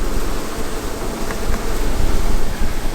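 Honeybees buzzing around an open beehive during a first beekeeping session, a dense continuous drone of many insects close by, steady and fairly loud with no talking.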